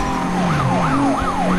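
A police siren wails in a rising-and-falling cycle, loud and close, repeating about three times during a Need for Speed Most Wanted chase of a MkIV Toyota Supra over a steady engine rumble.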